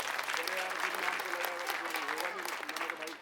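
A crowd at a political rally in Nangloi Jat, Delhi, claps loudly and steadily while a voice carries on speaking over the applause.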